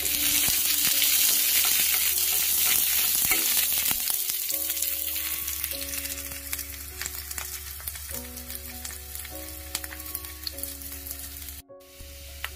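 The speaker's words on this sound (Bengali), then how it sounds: "পেঁয়াজ আমি প্যানে দিয়ে দিলাম।" Onions sizzle and crackle steadily in a hot pan as they fry for a brinjal-tomato bharta, with a gentle tune playing underneath and the frying fading slightly over time.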